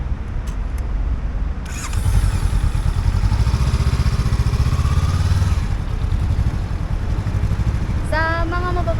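A Honda Rebel 500 motorcycle engine runs close by, rumbling steadily and revving up into a louder sustained drone before dropping back, with a brief clatter near the end.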